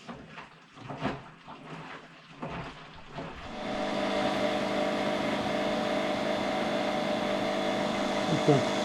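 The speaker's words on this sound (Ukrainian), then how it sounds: "робота пральної машини в режимі піджиму з зміненими амортизаторами" An Ariston AVSL 109 washing machine with newly replaced shock absorbers spins up, a steady loud whirring hum with tonal motor whine settling in after a few seconds of quieter clattering and rustling.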